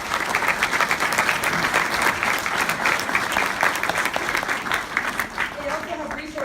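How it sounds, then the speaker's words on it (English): At a caregiver conference, a large seated audience gives a round of applause, with steady, even clapping that holds at a moderate level throughout and no talking over it. "Please give them a round of applause."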